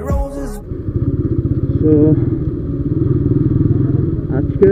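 A motorcycle rumbles on a morning ride through Dhaka, its engine pulsing close and loud in a steady rhythmic throb that rises and falls with throttle, with faint road clatter and a brief horn-like tone near the end.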